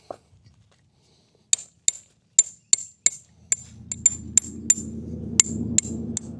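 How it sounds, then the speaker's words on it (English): Sharp metallic strikes of an MSR stake hammer on a tent stake ring out about a dozen times at a steady pace, with low rustling building up underneath. "This is the MSR, Mountain Safety Research tent stake hammer."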